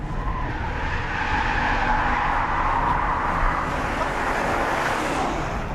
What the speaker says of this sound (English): the Jaguar XFR-S is not all about shredding the rear tyres in third gear at 65 miles an hour